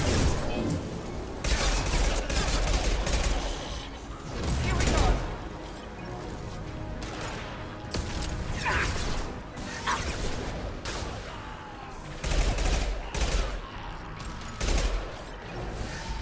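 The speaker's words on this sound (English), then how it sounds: "Firing an impact shot." Gunfire and impact blasts from the Mass Effect 2 video game, several loud bursts and crashes spread through the stretch over steady game noise, with a voice talking at times.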